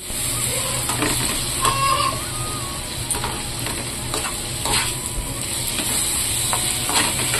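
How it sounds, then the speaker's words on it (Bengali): Onions frying in a pan with a little salt, a continuous sizzle with scraping stirring strokes and occasional small clatters, heard up close with no talk. "তো এর মধ্যে একটু লবণ দিয়ে দেব। পেঁয়াজগুলো ভালো করে ভেজে নেব।"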